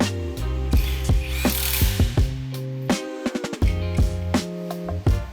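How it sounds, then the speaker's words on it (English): Lug nuts are tightened on a Dodge Challenger's matte silver wheels with a power tool, giving loud close bursts of rapid buzzing impacts and rattling clicks, several short runs in a row. "whenever you're putting your lug nuts on, you want to make sure you go in a star pattern"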